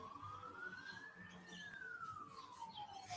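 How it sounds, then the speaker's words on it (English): A faint, distant emergency siren holds one long tone that rises and then falls as it passes, behind low background noise in a quiet indoor setting. "siren you can hear if you guys can hear it"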